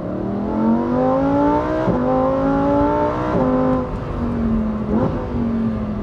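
A Lamborghini Huracan STO's V10 pulls strongly through the gears, its rising howl briefly dipping at each quick upshift, loud and continuous with no talk.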